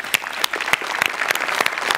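Audience applause following a comedy skit on a Marathi stage comedy show: a steady wash of clapping from a live crowd, loud and close, with no talk over it.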